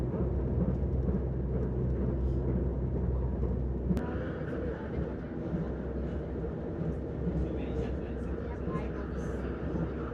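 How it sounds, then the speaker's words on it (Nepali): Steady rumbling roar of a train running at about 150 km/h in Malaysia, heard from inside as a continuous loud drone with rail clatter, while people talk over it throughout. "यो बुलेट ट्रेन त होइन तर यसको स्पिड भर्खरै चेक गरेँ 150मा हिँडिरहेको छ ट्रेन"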